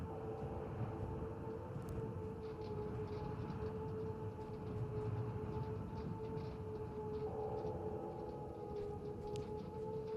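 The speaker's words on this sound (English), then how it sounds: "A siren began sounding in the distance." A distant siren wails steadily in a video game, its sustained tone holding across the whole stretch beneath a low, rumbling ambient drone with no voices.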